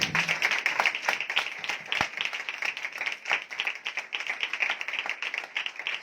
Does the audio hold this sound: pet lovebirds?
no